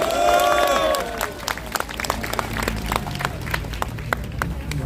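Audience applause welcomes a priest at a March 1st Independence Movement Day commemoration rally, with clapping rising over lingering voices and crowd noise, then thinning into scattered claps.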